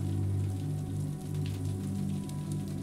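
Steady rain falling outdoors against windows, a dense continuous hiss with a low background hum, unbroken and moderately loud with no voices.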